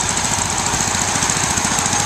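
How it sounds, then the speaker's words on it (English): A Ford Model AA Doodlebug tractor's engine putters with a rapid, steady mechanical knock as it leads an antique tractor parade, loud and close throughout. "Now we have the tractor parade, which was led off by a Ford Model AA Doodlebug"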